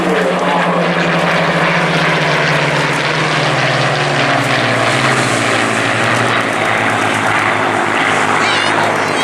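A Supermarine Spitfire warbird of the Battle of Britain Memorial Flight, flying at the Eastbourne airshow, roars loud and close with a throbbing piston-engine drone whose pitch slowly sinks as it passes, steady throughout.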